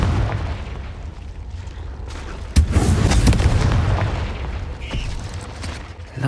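A Confringo explosion spell in Hogwarts Legacy goes off inside a cave: a sharp, loud blast with a quick second burst, over a low rumbling game ambience.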